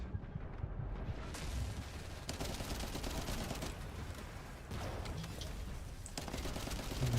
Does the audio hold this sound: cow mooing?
no